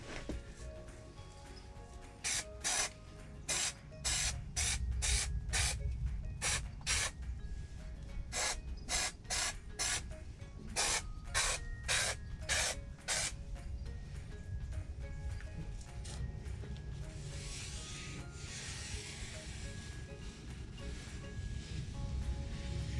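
Spray adhesive hisses onto the door frame of a VW Crafter camper van conversion in a series of short sharp bursts, quick and regular through the middle, then a softer, longer hiss at the end, all close up.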